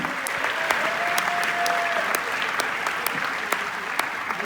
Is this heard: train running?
no